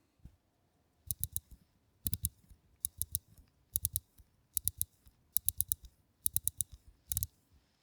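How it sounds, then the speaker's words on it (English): A Tudor Black Bay GMT watch bezel being rotated, giving quiet, close ratcheting clicks in quick bursts of three to five, repeated about eight times with short pauses between, heard alone. "Let's now listen to the sound a bezel makes."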